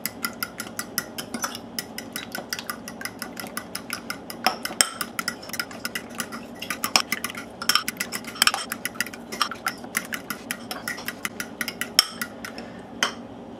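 A fork beats eggs seasoned with celery seed, pepper and salt in a bowl, making a fast, steady run of close metallic clinks and taps that carries on without talk.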